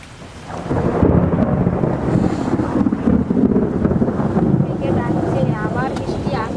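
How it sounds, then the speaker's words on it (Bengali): Heavy rain pours down steadily with rumbling thunder and gusts of wind buffeting the microphone, a dense continuous roar outdoors during a monsoon storm in a rural Bengali home. "আবার বৃষ্টি আসে,"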